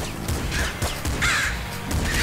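Crows caw in the Nuclear Throne video game, a few short, harsh calls popping up close and loud over bursts of game noise, with no voices.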